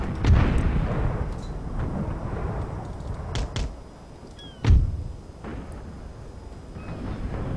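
Naval cannon fire in Empire Total War: a heavy boom at the start and another around the midpoint, each with a rumbling low tail, over a constant battle ambience with faint scattered cracks.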